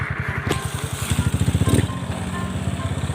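Carbureted motorcycle fitted with a stainless air filter, heard while riding: a loud, close, rapid engine pulse with throttle rising and then easing off as it passes.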